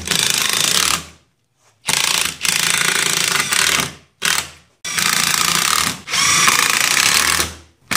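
A power drill drives long screws into a wooden Halloween jack-o'-lantern decoration cut from cedar, five loud whirring bursts of about one second each separated by short pauses, close and alone.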